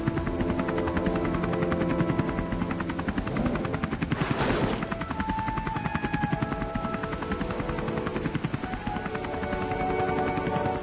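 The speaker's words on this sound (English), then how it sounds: "one triumphant helicopter ride into the sunset" A helicopter in the Poptropica video game flies off toward the sunset, its rotor chopping in a steady rapid pulse, loud and close, with a brief whooshing sweep midway.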